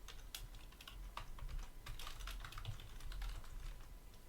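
Rapid typing on a computer keyboard during a file-handling lesson, a quick irregular patter of close, crisp key clicks with brief pauses, no voices.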